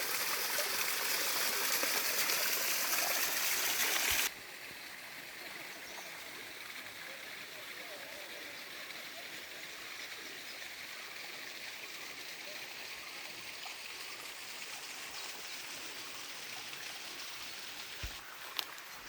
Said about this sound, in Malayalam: നമ്മുടെ സ്ഥലത്തേക്കൂടെ തന്നെയുള്ള ചെറിയൊരു അരുവിയാണ് കേട്ടോ ചെറിയ അരുവിയാണ്